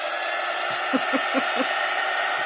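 A hair dryer blows steadily on a freshly dyed ribbon, a loud continuous whoosh and whine through the whole stretch. A few soft low taps sound beneath it.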